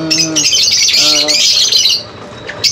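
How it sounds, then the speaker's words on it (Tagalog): Loud, harsh bird squawks repeat in quick succession, close by, with a few shrill calls layered over one another. "ibon natin na dating nasa loob, yung kapares ng green pastel."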